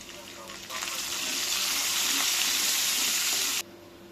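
Curry leaves hit hot oil for a Telangana-style okra fry and burst into a loud, steady sizzle for about three seconds, then the sound cuts off abruptly.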